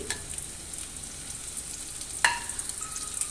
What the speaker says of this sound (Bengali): এবার আমি দিয়ে দিচ্ছি কাঁচা লঙ্কা কুচি,